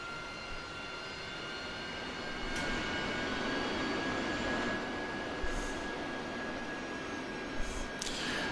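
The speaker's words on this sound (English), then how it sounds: "taxiing past the Harrier with my canopy raised. It's got such a distinct engine sound. Gotta love that Pegasus, man." In a flight-sim game, a Harrier jet's Pegasus engine whines with a steady high tone and a broad rushing roar that swells midway while taxiing past with the canopy raised, moderately close.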